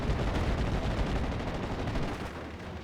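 Sustained supporting machine-gun fire in a World War II tank video game, dense and continuous bursts with heavy low rumble filling the whole stretch, loud and close, no voices.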